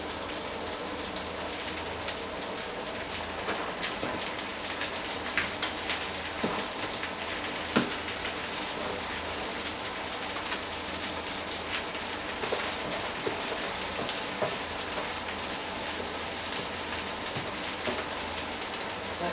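Dense, continuous crackling sizzle of carrots frying in a pan, with scattered sharper pops throughout and no talking.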